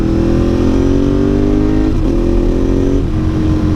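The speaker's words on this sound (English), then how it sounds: "it makes the bike sound a hell of a lot thumpier" A steady, thumping motorcycle engine drones loudly, muffled as if heard through an Arai RX7-V helmet, with slight shifts in pitch as it runs.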